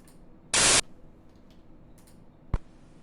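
A vinyl-style white noise sample from freesound.org plays as one loud, full-band hiss burst lasting about a quarter second, followed later by a single sharp click over a quiet background.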